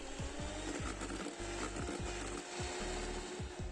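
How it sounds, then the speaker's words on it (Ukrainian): Electric hand mixer whirring through muffin batter with kefir, a faint continuous buzz with a regular rhythmic thump from the beaters. "І також трошки змішуємо все міксером."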